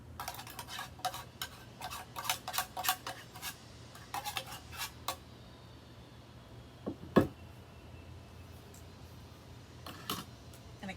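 A pan of monkey bread, freshly coated in poured topping, shifted around in a box oven cooking setup, faint clicks and light metallic taps in scattered bursts, with one sharper knock partway through and quiet between.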